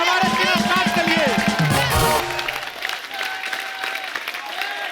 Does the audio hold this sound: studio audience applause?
yes